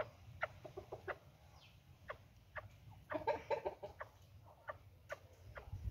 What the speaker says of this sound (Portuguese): E aqui tem uma galinha presa, gente.